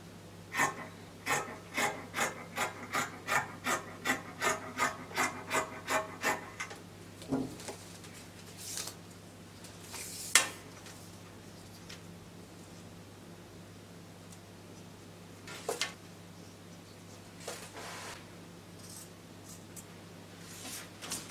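Fabric being cut for a pants waistband, a steady run of rhythmic scissor snips early on, then scattered single cuts and faint handling over low background hum.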